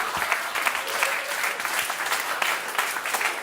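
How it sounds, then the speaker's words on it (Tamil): Audience applause at a stand-up comedy show, a dense steady patter of many hands clapping throughout, fairly loud and close, with no voices over it. "அதுக்கும் ஒரு சில பேர் கைத்தட்டி சிரிக்கிறானுங்க"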